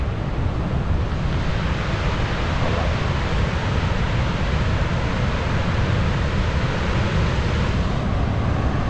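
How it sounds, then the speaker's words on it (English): Victoria Falls in Zambia roars as a dense, continuous wash of broadband noise with no gaps, heavy and close, much like crashing surf mixed with wind buffeting the microphone. "The largest waterfall in the world."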